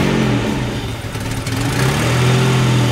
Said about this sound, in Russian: Я слышу спортивный нрав у этой машины. Гнилой дырявый выхлоп.